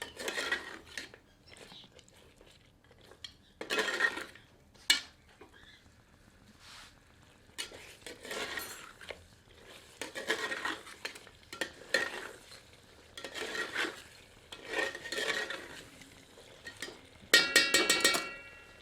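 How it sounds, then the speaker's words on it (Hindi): Fried onions being stirred and sautéed into mutton korma in a pan: repeated scraping and rubbing strokes of a spoon against the vessel, with soft sizzling underneath and a few sharper clinks near the end, close up and moderately loud. "अब इसमें भुनी हुई प्याज सम्मिलित करते हैं। मिलाकर 2 मिनट भूनते हैं।"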